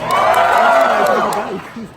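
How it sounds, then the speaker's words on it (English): A crowd at a Brooklyn political rally applauds and cheers, loud and close at first with whoops over the clapping, then easing off toward the end. "Round of applause if you're Buddy"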